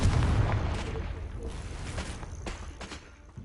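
A Confringo blasting curse spell effect bursts into a deep, booming explosion at the start, then rumbles and crackles away with a few sharp pops trailing off over about three seconds.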